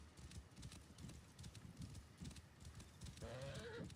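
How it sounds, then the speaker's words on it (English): Rhythmic clip-clop of a horse's hooves while riding in the video game Assassin's Creed Origins, steady trotting beats throughout with a brief horse whinny near the end. "Just, you know, riding my horse."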